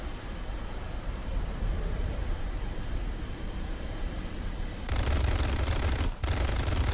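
Aircraft cannon and machine gun fire in a MiG-15bis versus F-86A-5 Sabre air combat video game, a continuous rumbling burst under steady engine drone that grows louder near the end, no talk.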